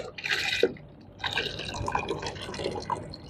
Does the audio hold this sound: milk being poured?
yes